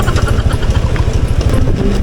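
A motorcycle engine runs close by with a steady low pulsing throb, passing along a rough rural road, loud and continuous throughout.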